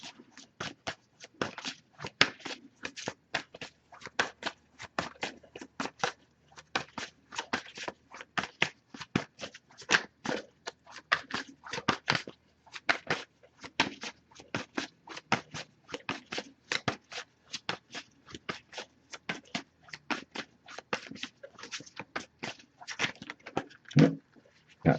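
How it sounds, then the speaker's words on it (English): Tarot card deck being shuffled by hand, a long run of quick, crisp riffling snaps and flutters repeating in irregular bursts, close and fairly loud with no talking. "if I shuffle for a while without anything coming up, I'll just put the deck down"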